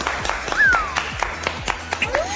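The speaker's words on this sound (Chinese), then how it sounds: "鼓掌，鼓掌！" Rhythmic group clapping on the Chinese reality game show Great Escape, steady and close, with swooping electronic tones over it.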